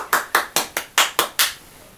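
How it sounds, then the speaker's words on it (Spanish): Six sharp, evenly spaced hand claps ring out close and clear in quick succession, then stop, with no talking. "Un fuerte aplauso para Connie."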